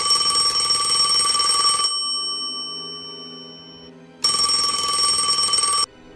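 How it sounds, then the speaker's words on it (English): A telephone rings loudly in two bursts of bright, bell-like ringing, separated by a fading ring-down and a silent gap before the second ring cuts off abruptly. "The phone rang."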